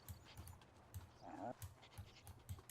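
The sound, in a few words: dog panting in The Sims 2 video game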